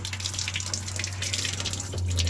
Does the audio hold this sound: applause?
no